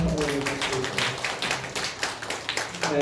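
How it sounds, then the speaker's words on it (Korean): Church congregation applauding during a Sunday service: a dense, steady patter of many hands clapping for about three seconds, fairly close, with no speech over it. "박수 먼저"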